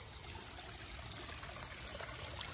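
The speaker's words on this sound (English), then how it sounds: "you can hear the water running down into the sewer" Steady trickling rainwater runs continuously into a street sewer, a soft rushing flow draining into a grate, with no voices.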